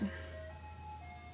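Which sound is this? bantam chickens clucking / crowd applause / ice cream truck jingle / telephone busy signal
ice cream truck jingle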